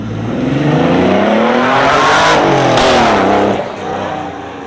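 Air-cooled Porsche 964 flat-six revs hard and loud up close, rising and falling pitch as it rips past, then easing off toward the end.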